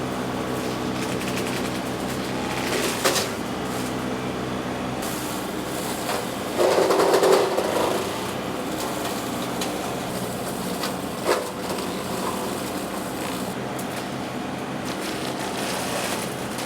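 Hardee Brush Tiger rotary cutter mowing behind a John Deere 2038R compact tractor, a continuous loud engine and blade drone with occasional knocks and a louder surge midway, no speech.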